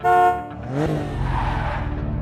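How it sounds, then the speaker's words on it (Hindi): A loud car horn honks once at the start, followed by a rising engine roar of a vehicle passing close by. "अचानक से कार के हॉर्न की आवाज आई।"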